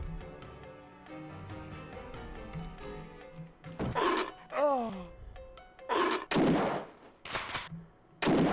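Gunfire from a handgun in the DOS horror game Alone in the Dark, several sharp loud shots in a cluster after a stretch of game music, with groaning creature-like sounds between them.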